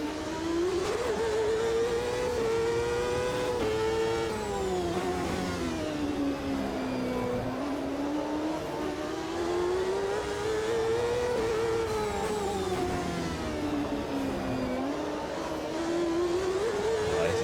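Turbocharged 2.66-litre V8 race car of nearly 900 horsepower in the racing simulator Automobilista 2, roaring loud and continuous as it revs up and down through corners, pitch rising and falling steadily throughout.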